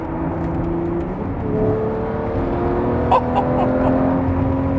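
A powerful Lamborghini engine hums and revs nearby, its steady tone climbing in pitch, with a brief sharp burst midway.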